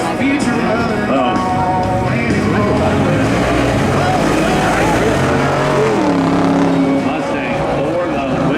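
A Mustang and a Challenger drag race at a spectator drags championship, their engines roaring loudly and continuously with shifting pitch under a crowd and voices talking.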